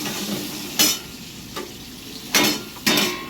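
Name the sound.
chopped onion frying with potatoes, being stirred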